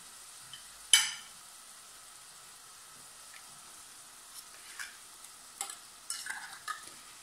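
Onion frying in a pan for a tuna sauce gives a faint, steady sizzle, with one sharp clink of a utensil and several soft stirring scrapes later.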